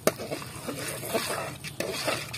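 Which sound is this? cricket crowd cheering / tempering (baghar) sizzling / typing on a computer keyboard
tempering (baghar) sizzling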